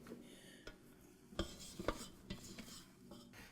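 A spatula scrapes down a mixing bowl of zucchini bread batter, a few quiet scraping strokes with soft clinks and thuds against the bowl, close up with no talking.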